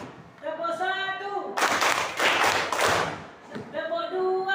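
A group of children claps together in a burst of rhythmic hand claps during a classroom lesson, loud and close, with a teacher's voice speaking before and after.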